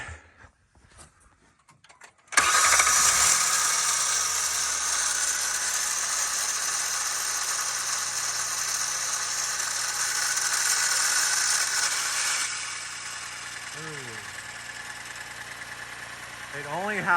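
A 2020-2025 Kia Telluride cold-starts after a brief quiet, the starter engaging with a loud grinding crank, then the engine settles into a steady idle that eases lower later, with faint brief voice-like sounds near the end.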